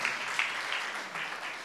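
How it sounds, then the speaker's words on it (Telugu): Congregation at a church sermon clapping together, a steady dense patter of many hands held at an even level for under two seconds, with no voices over it. "కొడదామా చప్పట్లు"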